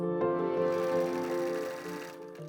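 A sewing machine stitching silk organza to interface a skirt waistband, a close, quiet mechanical hum with a rapid stitching rhythm over a couple of seconds.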